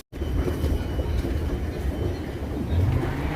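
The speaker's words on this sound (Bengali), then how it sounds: "তো আমরা আমাদের স্টেশনে চলে আসছি আর এখন ট্রেনটা আসবে" A metro train on an elevated line in Burnaby, Vancouver, arrives at a station with a loud, continuous low rumble and rolling wheel noise, ending in a rising squeal as it slows.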